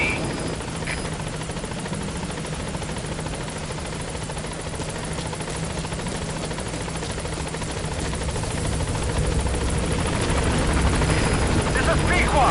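Helicopter arriving at a landing zone in the video game Metal Gear Solid V, a steady loud rotor drone with dense whine and thrum that grows slightly louder toward the end, continuous throughout.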